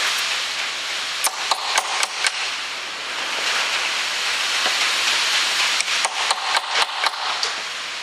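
Sharp metallic taps of a socket being hammered onto a stuck heater plug power lead in the engine bay of a Peugeot Partner, two quick clusters of strikes over steady background noise, with no talking.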